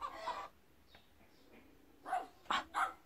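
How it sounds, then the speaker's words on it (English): Dog barking in separate bursts, one near the start and three closer together at the end, fairly close, with quiet gaps between and no talk over them. "Who is this? Dog."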